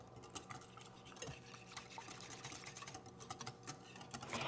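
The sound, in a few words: mixing pumpkin and evaporated milk together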